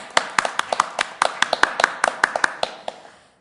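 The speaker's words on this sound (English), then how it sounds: "I think applause is in order." Applause at a Sioux Falls Charter Revision Commission board meeting: a small group claps in scattered, uneven bursts for about three seconds, close and fairly loud, then fades out.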